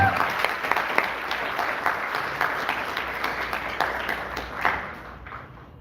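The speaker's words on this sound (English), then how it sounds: "Can we have a huge round of applause, everyone?" An awards-event audience applauds the achievers, a dense crowd clapping loud and steady that fades near the end, with faint voices mixed in.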